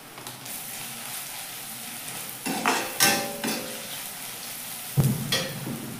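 Coriander and cumin powder fry in a pan over lowered heat for a radish and shol fish curry, with a soft continuous sizzle broken by several sharp scraping stirs and a clank of the spoon against the pan.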